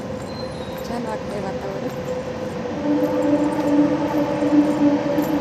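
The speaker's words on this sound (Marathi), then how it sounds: "ट्रेन चालली ट्रेनचा आवाज म्हणजे येतो इकडं या साईडला" A train rumbles past with a steady mechanical drone that grows louder midway, while a person talks over it.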